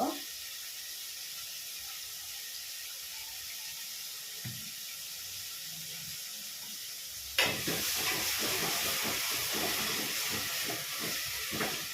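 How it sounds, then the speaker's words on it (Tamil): Tomatoes sautéing in a pan for Tamil kara kuzhambu, a quiet low simmer at first, then a loud steady sizzle with stirring scrapes that jumps up partway through and keeps going. "இப்போ நல்ல தக்காளி வந்து நல்லா வதங்குது"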